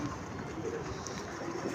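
Soft pigeon coos murmur steadily through a dense, noisy background, low and continuous, with no talking, as the pigeons are fed grain.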